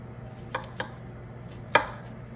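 A knife chops cauliflower into even florets on a cutting board, three sharp separate chops with the last one loudest, heard close and clear with no talking.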